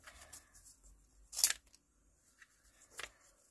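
Scissors cutting pieces of paper for a small tag book, with two distinct crisp snips a second and a half apart and faint handling in a quiet room.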